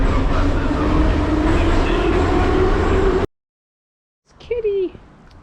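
A metro train at Teatralna station in Ukraine rumbles loudly and steadily, then cuts off abruptly into silence, followed by a brief voice.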